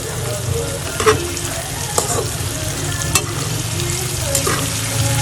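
French fries frying in hot oil for an iftar meal, a steady, even sizzle with occasional soft clinks and stirring sounds in a home kitchen.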